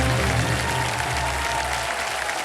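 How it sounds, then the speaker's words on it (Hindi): A studio audience at a televised quiz show breaks into loud applause for the contestants, a thick, continuous wash of many hands clapping without a pause. "जोरदार तालियां बज जाने के लिए"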